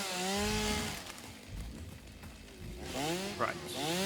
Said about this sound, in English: I wondered how far the chainsaw noise went.